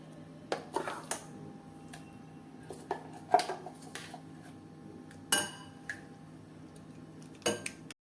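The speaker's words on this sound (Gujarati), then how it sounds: "હવે આપણે લઈશું એક બાઉલ અને આ મિશ્રણને બાઉલમાં ટ્રાન્સફર કરીએ" Ground chana dal mixture being moved into a bowl in a home kitchen, heard as scattered light clinks and taps of utensil against dish, spaced irregularly over quiet background.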